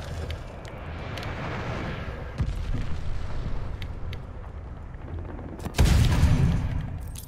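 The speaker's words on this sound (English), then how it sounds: "Enemy glide bomb incoming." Glide bomb exploding in the video game Call of Duty: Vanguard, a heavy blast that bursts in loud and rumbling late on, above a constant roar of distant battle noise and gunfire.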